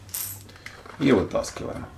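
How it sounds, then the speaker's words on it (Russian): A coin turning the rotor lock on a Dyson V7 Digital Slim turbo brush head, giving a short metallic click and scrape close up, with someone speaking briefly over it. "Для того, чтобы вытащить вот этот ротор турбощетки, точно так, монеточкой делаем поворот"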